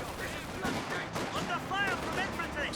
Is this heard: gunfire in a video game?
yes